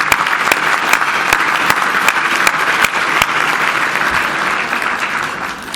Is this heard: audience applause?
yes